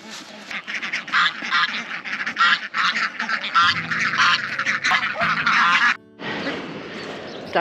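Farm ducks quacking in a busy, continuous chorus of overlapping calls, fairly close and loud, with a brief pause near the end before the flock resumes.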